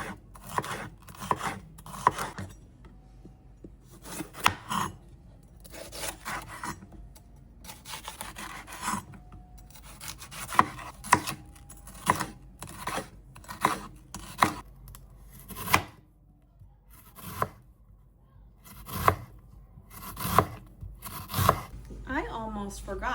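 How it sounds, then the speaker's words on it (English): Knife slicing bell peppers and onion into thin strips on a cutting board while making a Roman sausage sandwich, giving irregular crisp chops and cuts in quick bursts, close and fairly loud, with light kitchen handling between strokes. "cut them all down into little strips like so"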